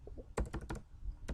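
Typing on a computer keyboard while building a Google Form, a few quick clusters of keystrokes close by, with short pauses between bursts.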